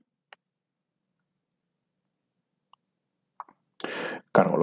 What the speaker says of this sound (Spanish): Hago clic en buscar